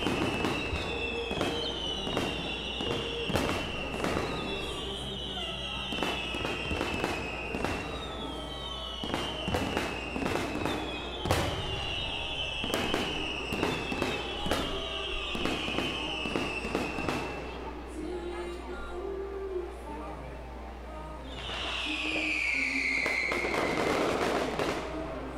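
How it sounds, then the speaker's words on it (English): Grand finale of a fireworks show at an outdoor high school graduation ceremony: rapid, dense bursts and crackling bangs fire in quick succession, with whistling rockets rising throughout and a loud swelling roar near the end. "I think we're getting the grand finale here with our fireworks show."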